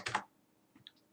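Login credentials go in on a computer keyboard for a remote desktop connection: a short burst of keystrokes, then a couple of faint, light clicks in a quiet room.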